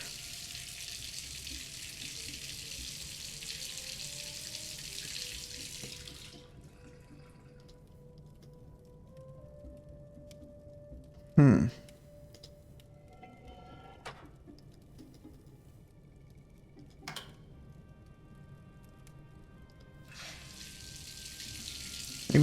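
Water gushes from a tap inside the Myst game world, a steady hiss that stops after several seconds, leaving quiet room tone broken by a few sharp clicks before the flow starts again.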